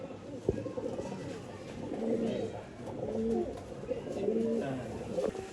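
Pigeons coo in soft, repeated rounded phrases at a sale of breeding pigeons in Bangalore, the calls rising and falling several times at moderate distance under faint background noise.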